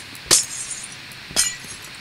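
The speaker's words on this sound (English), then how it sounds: "And then break the glass there." Two sharp glass-block breaks in a blocky sandbox video game, each a bright clinking shatter about a second apart against quiet background.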